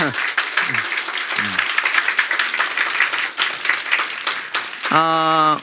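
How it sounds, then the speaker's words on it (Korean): A Korean church congregation at a Wednesday lecture applauds warmly, with sustained clapping from many people, brief voices at the start and a sung or spoken tone near the end. "다 같이 옆 사람에 뜨겁게 박수 보내드리겠습니다"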